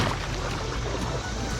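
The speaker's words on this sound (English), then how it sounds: "All right, I hear flowing water." Flowing water of a shallow creek riffle heard from a kayak on Cedar Creek, a steady close broadband rush filling the whole moment.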